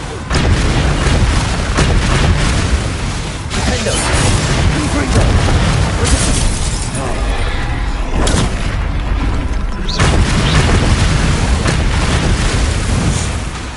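Confringo fire spell explosions in Hogwarts Legacy, booming again and again through a loud battle. Deep blasts and crashing bursts pile up continuously, with shouted voices in the mix.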